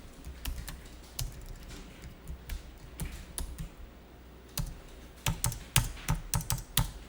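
Keys clatter on a computer keyboard during data entry in an accounting exercise, quiet taps in irregular bursts with a flurry of sharper strokes near the end, no voices.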